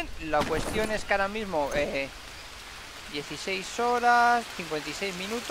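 Steady rain falls in a tropical jungle survival game, a continuous hiss running beneath someone talking in Spanish throughout.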